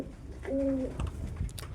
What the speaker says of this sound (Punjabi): ਬਾਈ ਨੇ ਕਬੂਤਰ ਵੀ ਰੱਖੇ ਹੋਏ ਆ